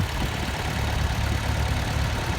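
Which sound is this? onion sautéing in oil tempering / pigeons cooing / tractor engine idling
tractor engine idling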